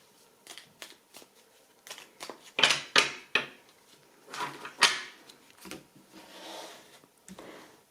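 Tarot cards shuffled, slid and laid down on a table during a spread, a run of soft papery swishes and taps in irregular bursts, close and fairly quiet with no talking.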